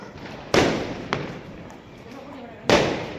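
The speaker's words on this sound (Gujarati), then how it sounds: "જોરદાર ફટાકડા ફૂટ્યો ભાઈ" Loud Diwali firecracker blasts go off nearby, two sharp bangs with a smaller pop between them, over a steady background hiss.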